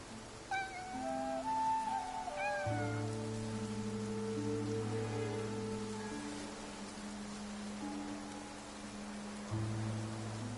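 A cat in the video game Infinity Nikki meows several times, clear and close, over a steady patter of rain, while sustained musical tones play beneath.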